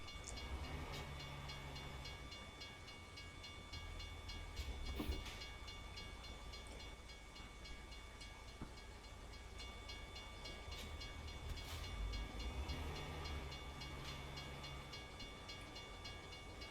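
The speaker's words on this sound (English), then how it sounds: "we were able to pull out because the train blocked the traffic" A train rolls past in American Truck Simulator near Albuquerque, New Mexico, giving a steady, fairly quiet rumble and hiss with faint rail clatter that continues through the whole stretch, with no talking.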